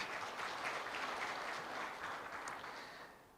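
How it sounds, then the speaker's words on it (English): An audience claps together at the launch event for Ethiopia's Digital Agriculture Roadmap, a steady broadband patter that holds for about three seconds and then fades slightly near the end, with no voices over it. "Round of applause for those who contributed"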